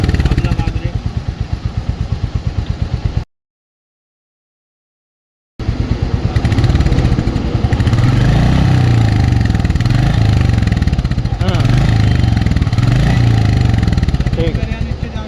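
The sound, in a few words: Royal Enfield Hunter motorcycle engine revving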